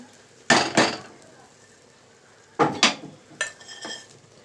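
Meal maker frying in a pan for biryani, with a metal utensil stirring and scraping in a few loud, close bursts separated by quieter sizzling gaps.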